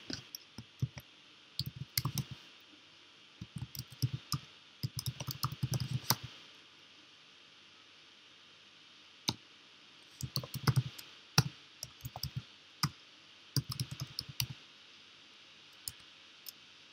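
Computer keyboard typing commands, with bursts of quick key clicks separated by short pauses, moderately close and alone without talk.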